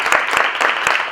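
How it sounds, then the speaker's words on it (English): An audience at a Christ Covenant parent lunch gives the Pathfinders a round of applause, a brief, close burst of many hands clapping with no voice over it. "if y'all would just give them a round of applause"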